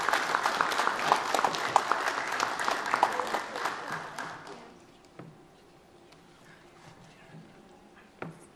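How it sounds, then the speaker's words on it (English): Audience applause at a spring security conference forum, a dense burst of many hands clapping for about four seconds before fading into quiet room tone. "Give yourselves a round of applause."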